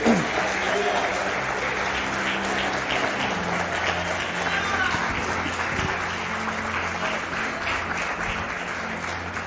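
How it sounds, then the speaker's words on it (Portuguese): Sustained applause from a church congregation at a Sunday service fills the room, steady and moderately loud throughout, with a voice speaking over it. "Vamos aplaudir Jesus mais uma vez"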